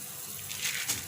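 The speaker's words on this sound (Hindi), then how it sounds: "ये देखें, पानी में उबाल आ गया" Water for rice pulao bubbles at a boil in a pot, a brief soft gurgling hiss that swells for a moment, close up and with no voices.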